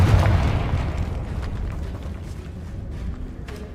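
A Confringo fire spell blasts in the Hogwarts Legacy video game, a loud booming burst at the start that rolls into a rumbling, crackling tail fading slowly, with no voices.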